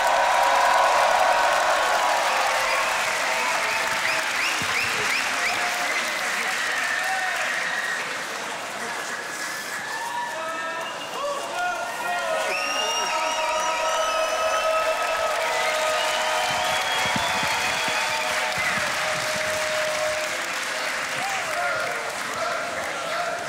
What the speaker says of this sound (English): Chris the Odeon, Brez, make some noise, come on, Scam Talk!